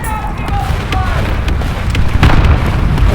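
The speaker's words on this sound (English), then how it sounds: "That must have been artillery." An artillery explosion in a tank video game booms loudly, a deep rumbling blast with a sustained roll that fills the short moment, up close and without talk.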